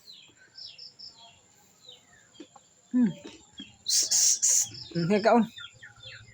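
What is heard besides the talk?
young pet bird chirping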